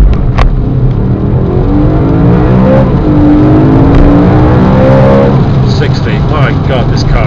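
A 2012 BMW M3's engine revs and accelerates hard, the pitch climbing in long sweeps, with a person talking over the steady roar.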